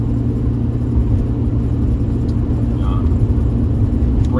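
A 2011 LML Duramax diesel pickup with 375,000 miles, towing a heavy trailer on the road, gives a loud, steady low engine and road rumble throughout, with no clear breaks.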